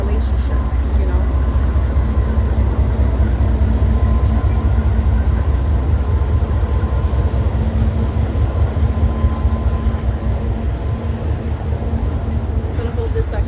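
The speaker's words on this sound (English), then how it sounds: "There's a train passing by." A train rumbles past nearby as a steady, loud low roar across the whole stretch, with faint talk underneath.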